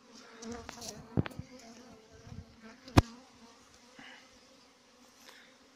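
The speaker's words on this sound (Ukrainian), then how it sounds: "І бджоли облітають, обліт виконую сьогодні." A soft, steady buzz of many honeybees on an orientation flight around an apiary, fairly distant, with a couple of sharp clicks cutting through.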